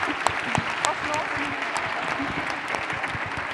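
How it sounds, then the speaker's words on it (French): Dense applause from an audience, a steady wash of clapping that holds at an even level throughout, with some voices mixed in. "On peut les applaudir, oui, ceux qui ont plus de 3 enfants."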